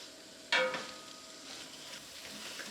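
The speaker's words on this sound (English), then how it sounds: "I'm gonna go ahead and add in our garlic, as well as our big bowl of roughly chopped spinach" Garlic and roughly chopped spinach hit hot olive oil in a skillet with a sudden loud burst of sizzle, which then settles into a steady, softer frying hiss.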